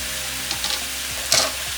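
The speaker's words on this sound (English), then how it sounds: "You can hear that sizzling," Chicken sizzles in a hot pan for a basil chicken tortellini dish, a soft steady frying hiss with a few brief louder crackles, heard alone over a short moment.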